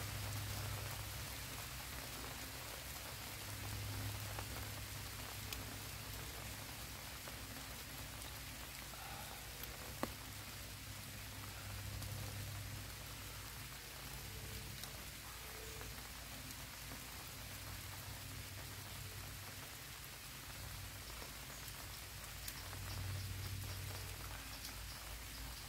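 Steady rain drumming on a tarp awning at a campsite in nature, a dense continuous patter that stays even and unbroken, with occasional louder drips close by.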